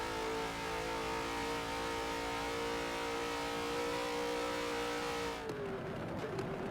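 A V8 Supercar engine in a Bathurst qualifying session of a racing video game, droning steadily at high revs, then dropping off abruptly as the car brakes and downshifts through the chicane.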